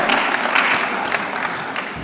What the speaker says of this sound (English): So another round of applause for our chairperson